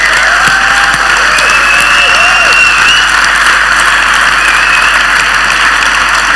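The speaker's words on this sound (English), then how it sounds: "Can we get a huge round of applause for Mark and the team?" A conference audience at btconf in Berlin applauds Mark and the team, a dense, steady wash of clapping at loud level throughout, with some faint tonal whistles over it.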